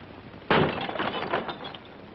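A glass window pane smashed with a hammer: one sharp, loud crash followed by a scatter of tinkling, clattering fragments that fade over about a second and a half.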